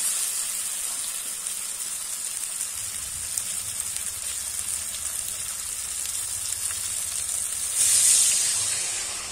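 Water hitting a hot pan of sautéed masala sends up a steady, close hiss of steam and sizzle. A brief louder surge of hissing comes near the end.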